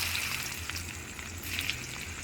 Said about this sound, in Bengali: রসুন কুচি দিয়ে ভালো করে নেড়ে নেব, ভালো করে ভেজে নেব।